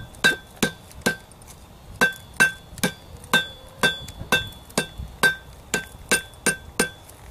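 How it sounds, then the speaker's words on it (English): Steady ringing hammer strikes on hot metal over an anvil crossbeam while forging a trowel, about two per second, each a sharp metallic clang with a bright ring, close and fairly loud. "I'm going to use the crossbeam and hammer and this step to make the centerfold."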